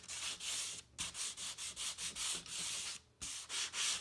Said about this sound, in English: Notice I'm sanding the tail a little bit more right here like this and less up here.